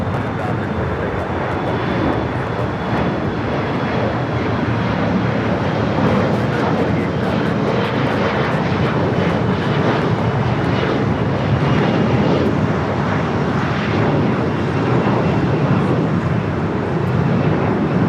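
A United airliner takes off from runway 25 at LAX, heard as a loud, steady broadband engine roar with wind rumble that holds without a break throughout.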